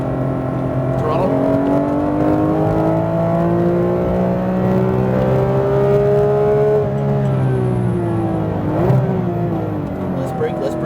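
A Porsche GT3 RS engine accelerates hard on a race track, a loud sustained howl that climbs steadily in pitch, dips briefly, then climbs again, close and dominant.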